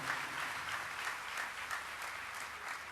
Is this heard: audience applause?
yes